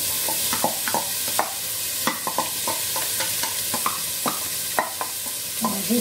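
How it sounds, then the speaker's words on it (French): Onions sautéing in a pan, a continuous bright sizzle close by with a spoon scraping and stirring in irregular clacks over it. "Et je vais faire revenir les oignons."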